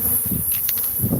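Bees buzzing inside a shed wall, a loud, close, continuous droning hum with individual insects swelling nearer now and then.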